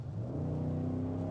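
A 2023 Cadillac Escalade with the catback performance exhaust accelerates, giving a deep, steady engine rumble that builds briefly at close range with no talking.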